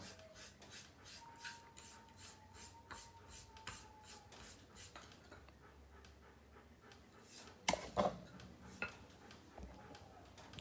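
A brush is rubbed on old sandpaper in rapid, rhythmic rasping strokes, close and quiet, with a pause partway through followed by a few clinks and knocks.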